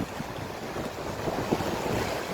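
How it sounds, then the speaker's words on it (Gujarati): Floodwater from upstream rain rushing across the Viramgam–Ahmedabad highway near an Indian Oil Corporation site, a steady broad roaring wash of flowing water with wind buffeting the microphone, continuous and fairly loud throughout. "ઉપરવાસનું જે વરસાદી પાણી સતત પ્રવાહ વધતો જઈ રહ્યો છે"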